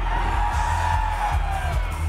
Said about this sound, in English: Sounds like a Greg Miller crowd.